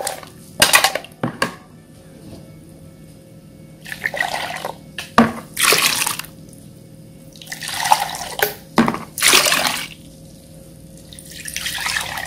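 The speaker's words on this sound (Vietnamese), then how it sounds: "Mình sẽ cho ra một cái thau, ở đây mình sẽ nấu khoảng là 2 lít nước." Water running into a basin in a home kitchen while preparing field-crab rice porridge, with intermittent splashing bursts and tap noise, close and fairly loud, no talking.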